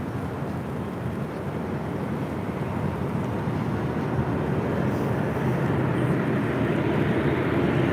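Loud, continuous jet roar of a Boeing 737-700 airliner departing LAX, a dense broadband rumble that builds slightly over time, heard alone without talk.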